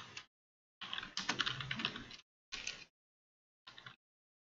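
A message typed on a computer keyboard in quick bursts: one brief flurry, a longer run of rapid clicking, then two short spurts, each separated by silence, close and clear with no voices.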